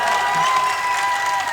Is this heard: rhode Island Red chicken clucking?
no